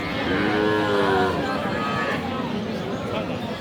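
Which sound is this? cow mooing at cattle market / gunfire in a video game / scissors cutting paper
cow mooing at cattle market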